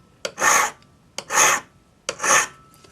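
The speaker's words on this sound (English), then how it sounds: "File the ends flat, and I just brace it against my bench peen." A metal hand file squares the ends of a bangle braced against a bench peg, three distinct rasping strokes with short pauses between, close and clear with no voices.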